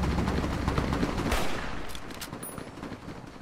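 Rapid bursts of gunfire from Fallout New Vegas combat, a dense loud volley of overlapping shots that thins out toward the end, no talk over it.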